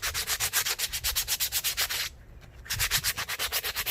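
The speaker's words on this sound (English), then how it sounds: "Go ahead and start sanding this one too." A front brake caliper from a 2004 Suzuki GSX-R 1000 motorcycle is sanded by hand in quick, rhythmic back-and-forth strokes, close and loud, with a short pause midway before the scraping resumes.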